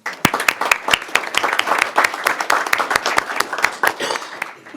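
An audience at a school board meeting applauds, with dense, steady clapping from a small crowd and a few sharper claps standing out near the front, fading slightly at the end.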